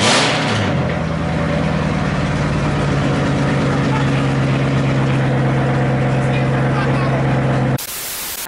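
A car engine starts and settles into a loud, steady idle with a deep exhaust rumble and a constant low drone that holds for several seconds before abruptly dropping away.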